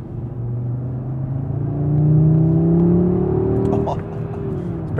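Audi RS3 five-cylinder turbo engine pulls hard under acceleration, a steady low rising drone that swells in the middle and eases near the end, with a voice talking over it.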